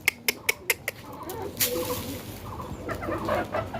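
Backyard chickens cluck as they are called and fed, after a short run of sharp rhythmic taps; the clucking is close and continuous over light background noise.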